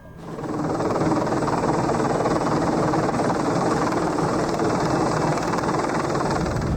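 A Pave Low military helicopter drones loudly and steadily, its rotor and engine noise swelling in within the first second and then holding as a constant, close wash with no voices.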